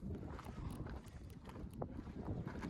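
Strong wind blowing on a mountain pass, a continuous low rumbling buffet battering the microphone with gusty swells, loud and close throughout.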